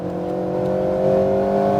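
An Alpine A110R at the Lohéac circuit drives at full throttle. Its engine holds a loud, steady, close drone that climbs slightly in pitch as it pulls hard, with no voices.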